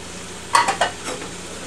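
Diced onion, thinly sliced leek and minced shallots are stirred in a pan, with a few quick scraping strokes of the spoon against the pan over a faint sizzle.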